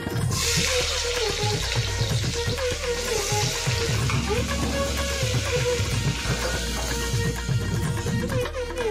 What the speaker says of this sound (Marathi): त्याच्यात कांदा तळून घेऊया सगळ्यात पहिले